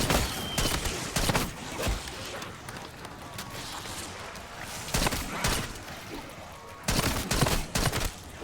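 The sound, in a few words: gunfire from a weak weapon in Call of Duty: Black Ops 6 video game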